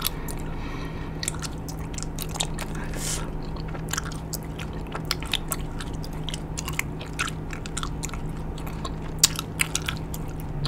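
Grape bubble gum being chewed close up, a steady run of wet, squishy smacks and small crunchy clicks over quiet background hum.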